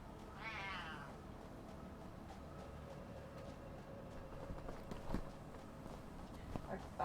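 A kitten mews a short run of high, wavering meows near the start, set against a steady indoor hum with scattered footsteps and knocks afterward.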